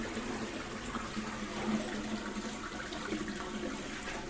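Water rushing through a flush valve into a toilet, a steady, fairly faint gush with no talk over it.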